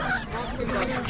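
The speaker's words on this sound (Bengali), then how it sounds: "অলরেডি আমরা হাঁস মুরগির যে বাজার রয়েছে সেই হাঁস মুরগির বাজারে এসে পড়লাম" Ducks and chickens at a village poultry market on a river char, Kamarer Char, give a brief burst of honking, squawking calls amid crowd murmur, close and fairly loud for about a second.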